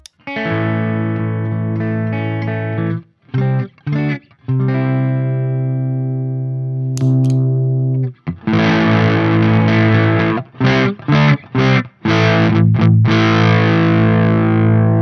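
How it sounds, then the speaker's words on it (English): A distorted electric guitar through an amp pushed by an overdrive pedal plays sustained chords and then chunky, choppy strums with hard stops, crunchy and saturated, with no talking. "So the amp produces more of its own distortion."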